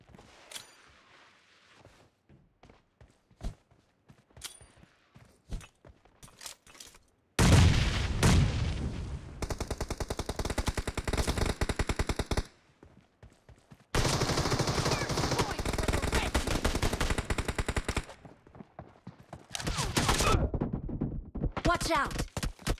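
Rapid automatic fire from an SKS rifle in a PUBG team deathmatch, loud sustained bursts that run for several seconds with short pauses between them, following quieter sparse shots and background game sounds.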